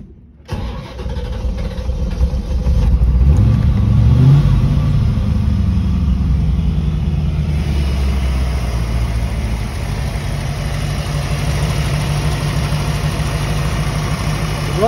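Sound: car engine starting and idling

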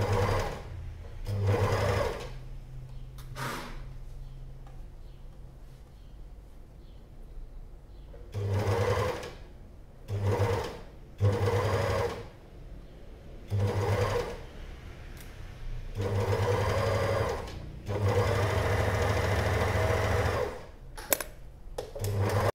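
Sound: sewing machine stitching elastic

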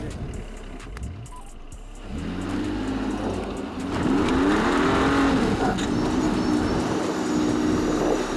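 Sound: Mercedes GLE SUV driving off-road trail

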